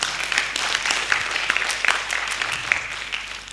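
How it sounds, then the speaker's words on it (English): An audience applauds at an international seminar on gender in international relations, a continuous patter of many hands clapping with crisp individual claps standing out, moderately loud and without talk. "Give applause to Kak Jesse."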